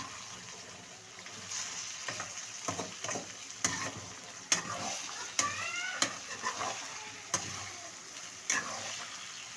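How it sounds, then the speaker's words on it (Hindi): Potatoes frying in a pan for aloo fry, a moderate sizzle with repeated sharp clicks and scrapes of a spoon stirring, close and without speech. "मैं 2-2 मिनट के बाद इसको चम्मच चला रही हूँ, छोड़ती जा रही हूँ ताकि ये गोल्डन होते जाएं।"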